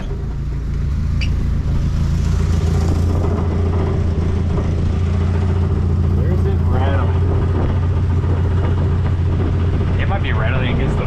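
A Ford Ranger's engine runs steadily at idle, with a low continuous drone and a faint metallic exhaust rattle against the frame, while people talk over it.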